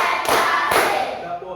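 Sharp hand claps in a classroom counting clap game, two strong claps spaced apart over a steady murmur of voices.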